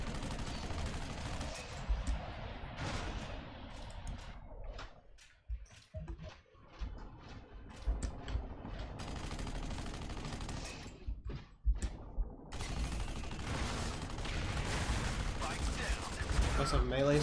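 Machine gun fire in the video game Section 8: Prejudice, with bursts of automatic shots under game music and voices, fading briefly before picking up again.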